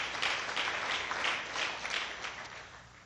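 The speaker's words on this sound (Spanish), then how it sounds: "Dale un aplauso al Rey." Congregation applause during a church sermon, a steady wash of many hands clapping at moderate distance, fairly even with slight pulses, tapering off slightly toward the end.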